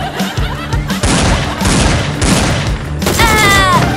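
Gunfire in a Squid Game parody skit: loud, dense bursts of rapid shots come in waves, with a tonal squeal and voices near the end.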